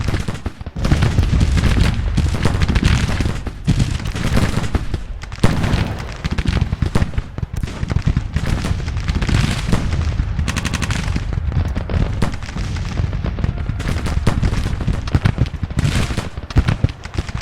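Civil War black powder rifles fire in massed, unbroken volleys in Grand Tactician at the 2nd Battle of Richmond, a loud, dense crackle of musketry with heavy booms mixed in throughout.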